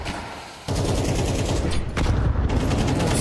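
Rapid, continuous Counter-Strike-style match gunfire rattles in dense bursts, loud and close, with no talking.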